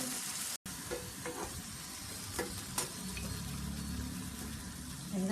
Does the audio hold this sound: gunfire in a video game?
no